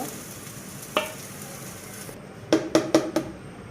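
Mustard oil poured into a preheated wok gives a crackling sizzle, with a sharp clatter near one second and a quick run of four loud metallic scrapes or clinks toward the end.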